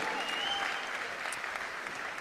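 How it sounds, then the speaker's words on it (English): A crowd at the ESWC esports championship in Paris applauds steadily for the winning team, a distant, continuous patter of many hands clapping at low level, with a faint voice underneath. "On peut les applaudir bien fort, les Optic Gaming, champions de cette ESWC."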